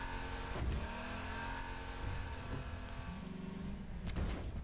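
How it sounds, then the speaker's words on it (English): A car engine revs in the sandbox game Garry's Mod, a steady mid-pitched drone that swells and rises in pitch, with a couple of sharp knocks and bumps along the way and no talking over it. "Dude, this car is like awesome."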